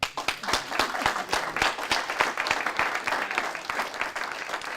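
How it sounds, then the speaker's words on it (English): Scattered audience at a scholarship awards event clapping at moderate volume, with distinct individual claps forming a steady, fairly sparse patter for several seconds. "I want everybody to applaud for their generosity. Let's hear it."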